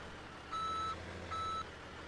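A dump truck in Farming Simulator 17, on a mining map, emits two evenly spaced electronic reversing beeps while dumping its load, faint over a low background hum.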